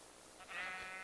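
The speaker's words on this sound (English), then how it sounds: "There's a lot of sheep." A Minecraft sheep gives a single short, quiet bleat over a faint steady background, fairly distant and alone without talk.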